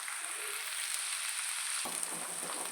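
Brinjal and egg sizzle steadily in a frying pan, a constant crackling hiss with a slight scrape partway through and no talking.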